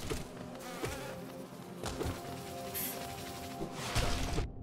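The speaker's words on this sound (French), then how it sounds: "On dira que ce sont des guêpes, ok" Steady insect buzzing from wasps or bees in the video game Hollow Knight, a continuous droning hum with small bursts and game effects layered over it, moderately loud throughout.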